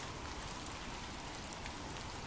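Steady rain falls without pause, a dense, even hiss of drops on a surface that holds at a constant level from start to finish, with no voices or other sounds.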